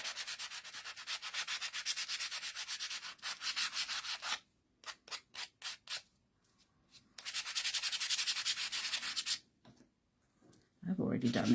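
Light hand sanding across the tops of up-cycled shadow boxes makes close, steady scratchy rubbing, broken midway into several short strokes and pauses before a long continuous run, with a brief voice at the very end.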